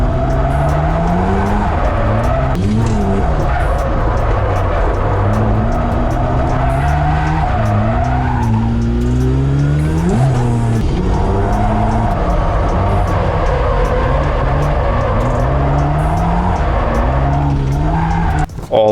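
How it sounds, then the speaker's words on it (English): Car drifting through the turns of a race track, a loud revving engine that rises and falls with gear changes, layered with sustained tire squeal and skidding throughout. "I was finding the limits of the car and eventually drifting through all the turns."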